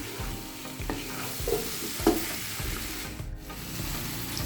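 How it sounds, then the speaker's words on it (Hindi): Medium-cut potatoes and cauliflower frying in a pan for aloo gobi, with a steady close sizzle and periodic scraping stirs of a spoon across the pan. "अभी इन दोनों चीज़ों को भी अच्छे से फ्राई कर लेते हैं"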